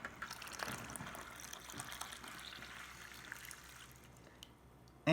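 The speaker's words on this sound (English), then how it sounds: "we are going to add 2 cups of cold water" Cold water is poured into a pot of boiling red beans for sweet anko paste, a quiet, steady gushing splash lasting several seconds before a sudden louder clunk right at the end.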